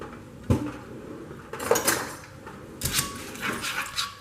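Pasta carbonara is tossed in a pan with metal utensils, giving a few scattered clanks and scrapes of cookware, one sharp knock followed by two bursts of clattering stirring.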